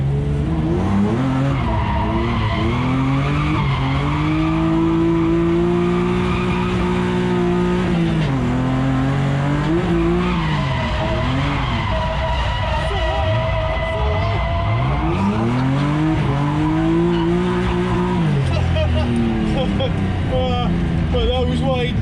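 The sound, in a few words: BMW E36 M3 drifting with tire squeal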